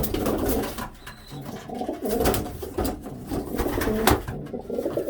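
Pigeons coo repeatedly inside a loft, close and fairly loud, with overlapping throaty calls and some fluttering and rustling around them.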